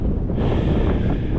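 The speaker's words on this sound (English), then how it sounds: "It's really windy" Strong wind buffets the microphone on a backcountry cross-country ski tour, a loud, continuous low roar and rumble with no voices.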